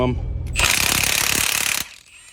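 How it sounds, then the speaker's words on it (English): A Milwaukee 1/2-inch impact wrench removing engine head bolts hammers in one loud, rapid, rattling burst of just over a second, close up, then stops abruptly. "have you guys used the Milwaukee 1/2-inch impact? I bought this, I used it a few times, so far so good, but let's see what it'll do on head bolts"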